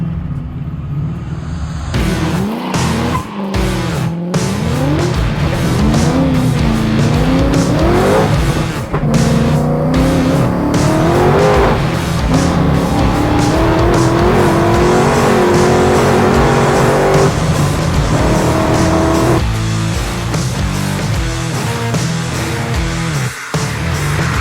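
A car on a land speed record run with no traction accelerates hard through first, second and third gear, its loud engine rising and falling in pitch with each shift while the wheels spin and squeal throughout.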